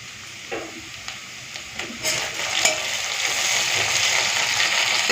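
Thinly sliced tomato goes into a pan of onions already fried until red, and the frying grows into a steady, loud sizzle with a few stirring scrapes near the start and no talking.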